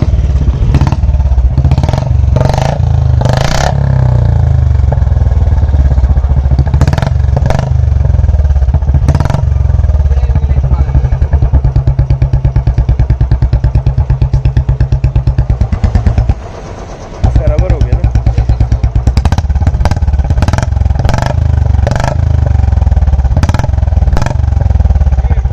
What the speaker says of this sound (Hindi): शॉर्ट पंजाब इसका एग्जॉस्ट लगा हुआ है और कैटालिटिक कन्वर्टर के साथ लगा था।